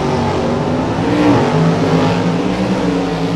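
A white Chevrolet Cobalt drag car accelerates down the strip in Super Stock sportsman racing, its engine a loud, sustained roar that climbs in pitch as it pulls away, with no talking over it.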